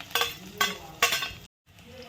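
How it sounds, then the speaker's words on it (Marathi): Cumin, mustard seeds, garlic and green chilli are tempered in oil over a low flame: three scraping, sizzling stirs come in steady succession, then a short silence and a softer sizzle. "जिरे मोहरी लसूण आणि हिरवी मिरची तर छान फोडणी करून घ्यायची बारीक गॅसवर करायची"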